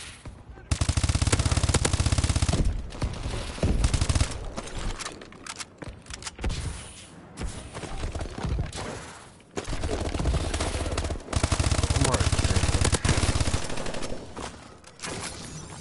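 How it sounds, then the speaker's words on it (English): Rapid automatic gunfire in a first-person shooter video game, long loud bursts of machine-gun fire with brief gaps between them, up close and dominating throughout. "I just seen gunfire out shooting at our teammates."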